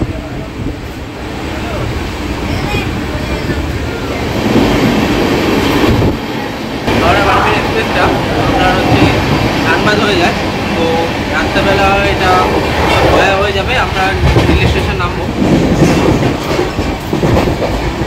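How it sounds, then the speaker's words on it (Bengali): Howrah Barmer Superfast Express at platform 8 of an Indian station, a loud continuous rumble of train and carriage noise with some clickety-clack, with voices and station bustle throughout. "এই যে হচ্ছে হাওড়া বার্মা সুপারফাস্ট এক্সপ্রেস"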